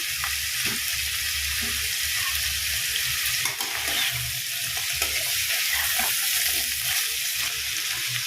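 Chopped onions and broccoli fry together in a pan, giving a steady, loud, continuous sizzle with a few faint stirring knocks and no voices.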